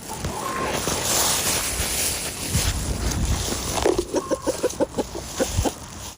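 Chickens in a chicken coop clucking in quick repeated bursts near the end, following a stretch of rustling, wind-like noise; moderately close.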